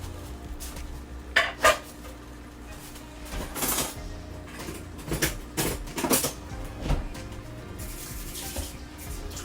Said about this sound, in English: I'm going to go ahead and add everything to this pot.